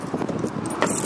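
Keys jangle briefly while a 1972 Ford Gran Torino station wagon is locked, a short close metallic rattle with a sharper burst near the end, no talk.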